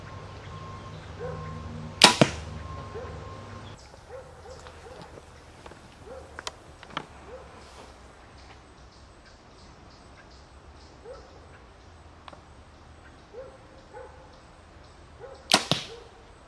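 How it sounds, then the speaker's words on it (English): An arrow tipped with a drone broadhead is shot from a bow outdoors, giving a sharp release snap followed by a distant thud, with a second sharp impact-like burst near the end, amid faint quiet background. "we're going to shoot an arrow with the drone broadhead on it"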